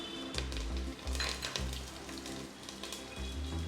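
Ginger sticks and curry leaves sizzle in hot oil in a pan for a coastal-style vegetable stew, a steady close frying crackle with a low hum underneath, no talking.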